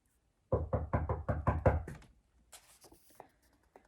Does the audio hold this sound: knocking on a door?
yes